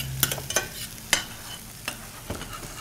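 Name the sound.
shallots sautéing in a pan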